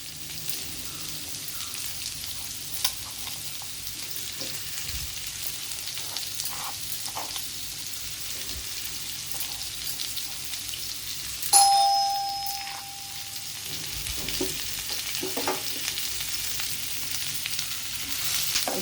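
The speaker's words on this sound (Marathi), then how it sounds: "मी आपण तिकडे तीन कांदे चिरून घेतलेले ते टाकते आहे फास्ट गॅसवरती" Three chopped onions fry over high gas, a continuous crackling sizzle with scattered stirring clatters and a sharp metallic ring partway through, no voices.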